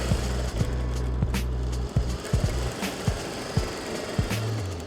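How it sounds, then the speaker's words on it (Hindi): A sewing machine running a straight stitch through a homemade cloth mask, a steady low motor hum with rhythmic needle clatter that stops and starts in short runs, with soft handling clicks in between. "बिल्कुल सीधी सिलाई इसके बीचों बीच"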